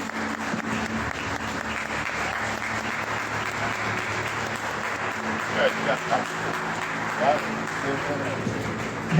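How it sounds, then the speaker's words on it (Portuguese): A church congregation clapping during a praise and worship service, a continuous crowd wash with voices and singing mixed in and a few louder bursts of cheering. "Vamos aplaudir o Senhor com as palmas"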